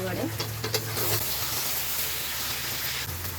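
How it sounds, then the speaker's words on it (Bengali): Fried potatoes are stirred into chicken gravy in a pan, making a soft sizzle and scraping stir under a low steady hum, close by and fairly constant. "এবার ভেজে রাখা আলুটা দিয়ে দেবো"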